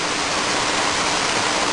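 Steady, loud roar of a waterfall close by during a rappel descent down the falls, a dense unbroken rush of falling water with no voices.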